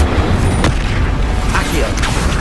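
Incendio fire spell blast in the Hogwarts Legacy video game, a short burst of loud, roaring booms with a dense, rumbling fiery rush filling the whole moment.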